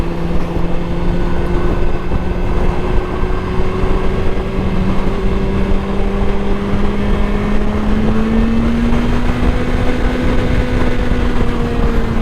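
A motorcycle engine holds a steady high-rpm drone near 6,500 RPM at an indoor motorcycle show, loud and continuous for the whole stretch with a slow upward drift in pitch and no talk over it.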